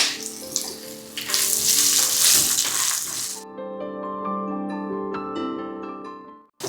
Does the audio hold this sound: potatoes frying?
yes